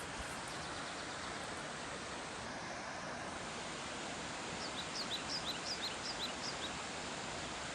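Mountain creek on a rural property in Northern Portugal, a constant broadband rush of flowing water heard close and steady, with faint bird chirps briefly on top.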